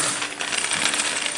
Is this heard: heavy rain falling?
no